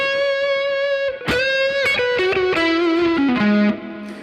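Electric guitar played through a Friedman amp model on a Fractal FM3, a driven rock tone with sustained chords and melodic notes ringing clearly, heard alone without talk.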